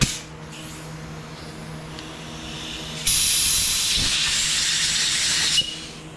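Compressed air blasting through a carburetor jet from a Honda EB3000C portable generator, heard as a loud, close, steady hiss lasting about two and a half seconds. It begins and stops abruptly, with softer quiet handling sounds around it.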